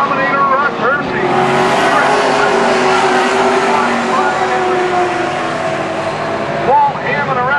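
Pro stock race cars roar around the Canaan Speedway oval, engines droning loudly and continuously with pitch swells as cars pass, while an announcer talks over the racing.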